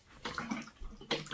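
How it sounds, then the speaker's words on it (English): Dirty water pours out of the removed tank of a Bissell Bark Bath pet washer after a Husky's bath, splashing in two short gushes with a brief lull between them. "Pour out the dirty water."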